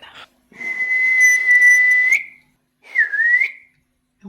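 A person whistles two clear tones, a long steady note followed after a pause by a shorter one that dips and rises, loud and close with no talking.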